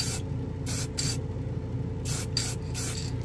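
Several short bursts of matte clear coat from a hobby spray can onto acrylic and plastic, each a broad airy hiss lasting about a third of a second, with brief pauses between them, close and moderately loud.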